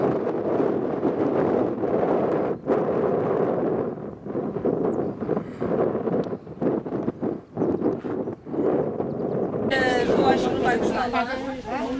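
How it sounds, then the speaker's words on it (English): Strong wind buffets the microphone at a hilltop viewpoint in Portugal, a loud, continuous rumbling roar with gusty dips, mixed with faint voices in the background. "A lot of wind."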